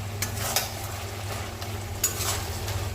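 Garam masala is stirred into hot ghee in a pan, giving a low continuous sizzle with a couple of sharper scrape accents from the spoon, steady and moderately close.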